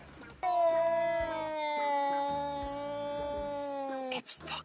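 Cats yowl in a played video at 3 a.m., one long, loud, sustained wail with a steady rich pitch that drags on for about four seconds and ends abruptly, with faint tapping beneath it.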